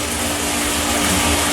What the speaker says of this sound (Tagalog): Yung napakalakas nating heat gun.